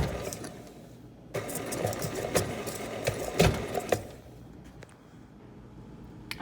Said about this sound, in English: we are locking our mixer into place, plugging it in, and on low speed. We're just gonna mix that all together.